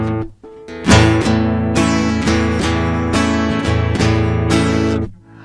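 An acoustic guitar plays a strumming pattern with two strokes on the lower strings and one on the higher strings, repeating in a steady rhythm, close and full, with no one talking.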